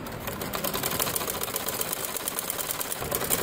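A sewing machine runs steadily while stitching a tulip salwar, a rapid, even mechanical clatter of the needle at close range with no pauses.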